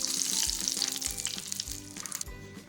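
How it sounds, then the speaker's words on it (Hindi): Whole dried red chillies sputter in hot oil for a sarson ka saag tempering, a steady close sizzle with crackly hiss and a few soft pan knocks, no talk. "फिर हम इसमें साबुत लाल मिर्च ऐड करेंगे और कुछ सेकंड हम इसको फ्राई करेंगे।"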